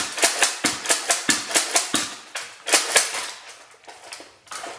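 A Nerf blaster firing in rapid succession, a run of sharp, close clacking shots in quick rhythm with short pauses between bursts, no voices.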